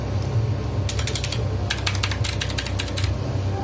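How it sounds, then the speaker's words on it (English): Larger keys on a keyboard capped with Milk White PBT keycaps struck in two rapid runs of sharp, clacky presses, loud and near, with a faint steady hum underneath. "but the larger keys have a different sound."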